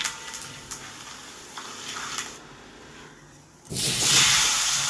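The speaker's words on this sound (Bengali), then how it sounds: "ফোড়নটাকে নেড়ে চেড়ে একটু ভেজে নেব।" Bay leaves, cardamom pods and whole cumin seeds fry in hot oil in a pan with a steady close sizzle and faint crackles, then swell into a louder, fuller hiss near the end, with no talking.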